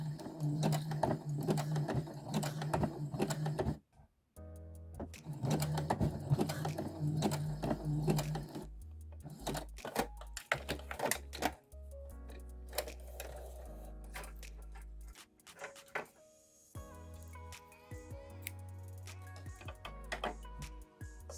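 A sewing machine stitches a narrow zigzag bar tack across the end of a zip, running in steady rapid ticking bursts broken by short pauses, close and fairly loud with no talking.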